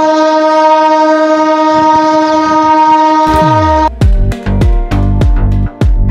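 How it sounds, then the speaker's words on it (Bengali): A passenger train at Agartala railway station sounds a long, loud, steady horn, then sets off toward Belonia as rhythmic wheel clatter and clanking rail joints take over, close and loud. "আমাদের ট্রেন কিন্তু রাইট টাইমে ছেড়ে দিল আগরতলা স্টেশন থেকে বিলুনিয়ার উদ্দেশ্যে।"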